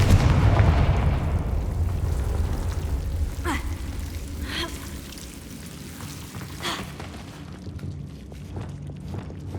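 A Confringo blasting spell in Hogwarts Legacy sets off a deep rumbling explosion that slowly decays, followed by scattered crackling debris and faint lighter impacts.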